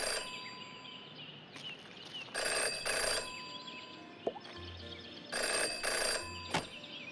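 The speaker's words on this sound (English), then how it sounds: "Jenny had learned never to ignore a ringing phone." A telephone rings in a detective video game, several short bursts of bright electronic ringing repeating in pairs against a quiet background with a faint low hum and a soft click.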